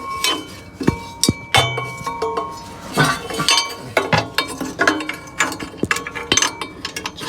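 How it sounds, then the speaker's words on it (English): A swivel socket and 15 mm socket work loose the catalytic converter flange bolts on a Jeep 4.0L, giving sharp metallic clinks and ratchet clicks in an irregular rhythm, close and fairly loud, with no speech. "We're just going to loosen up those flanges on the Cadillac converter flange or Cadillac converters."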